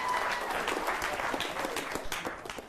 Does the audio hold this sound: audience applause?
yes